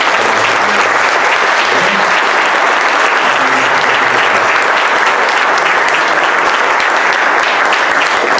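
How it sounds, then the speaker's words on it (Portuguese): Loud, sustained applause from a church congregation during a theology week gathering fills the room, steady and unbroken throughout, with a few faint voices beneath the clapping. "As palmas louvam."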